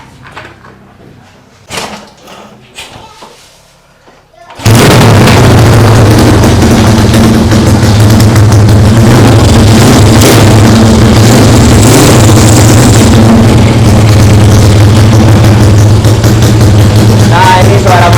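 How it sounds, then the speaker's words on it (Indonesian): A Yamaha 5TP racing motorcycle engine built by SBL Racing starts up after a few seconds of quiet knocks, then runs loud and close with a steady, buzzing, raspy idle through a racing exhaust. "ini suara motornya ya guys ya"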